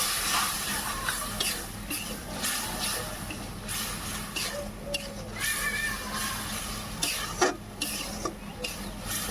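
Masala is stirred in a pan for a Bengali guar-bean curry, giving a soft continuous sizzle with scattered light scraping and clinks of the spoon against the pan, fairly quiet and steady.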